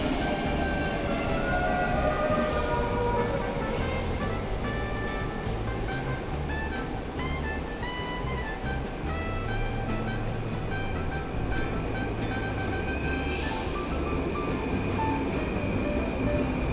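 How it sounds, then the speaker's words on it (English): A Moscow Metro train pulls into Kuntsevskaya station, a loud, steady rumble of wheels and carriages filling the platform with squealing and metallic clanks layered over the roar, continuous throughout. "exactly on time, our train arrives."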